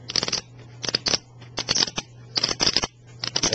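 Plastic poker chips clack and riffle in quick clustered bursts, crisp close clicks separated by short pauses, with a faint steady hum underneath.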